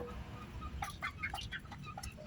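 Hen and chicks clucking and peeping at a Thai farmyard canal bank, soft scattered calls over steady low rural background noise.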